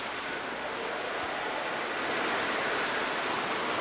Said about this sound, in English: The sea, that has pounded the southern shores of this island for countless centuries